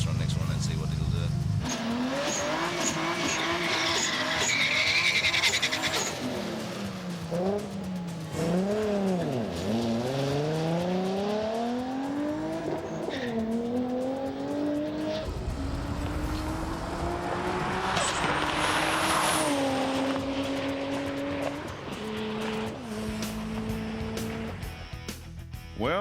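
A street car makes a high-boost acceleration run, its engine note climbing steeply through several gears with sharp shifts between, loud and sustained, followed by tire and road noise as it settles.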